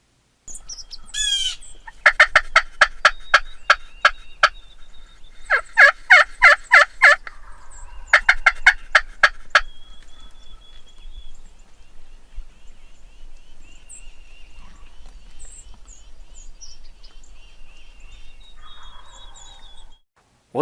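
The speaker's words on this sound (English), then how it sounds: "it makes it a little sweeter when them old gobblers are answering your calls" Several loud bursts of wild turkey gobbling in quick rattling series, answering hunting calls, then quieter distant birdsong and faint calls in an otherwise calm outdoor setting.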